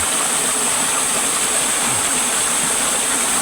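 River water rushes past a fishing spot after a night of high water, a loud, unbroken broadband roar with no pauses or voices.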